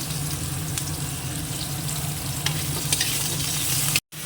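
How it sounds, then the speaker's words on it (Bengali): Potatoes frying in hot oil, a continuous close sizzle with occasional stirring clinks and spatters, no talk, ending in a brief cut. "তো আলুগুলো আগে ভেজে নিই"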